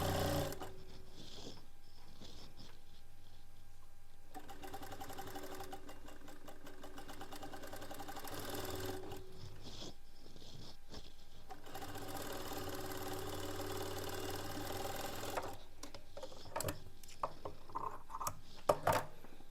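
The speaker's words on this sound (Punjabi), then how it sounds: "ਇਸ ਦੀ ਡਬਲ ਸਲਾਈ ਲਾਵਾਂਗੇ ਉਹਦੇ ਉੱਪਰ" A sewing machine runs steadily, stitching a double seam along the armhole of a suit. The motor whirs in several long runs broken by short pauses, close and continuous, with no talking.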